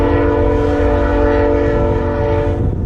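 A loud, sustained train horn blares steadily throughout, close by, with low rumbling underneath.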